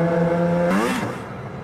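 A motorcycle speeding past, its loud engine note rising then sweeping down in pitch as it passes close by and fades away.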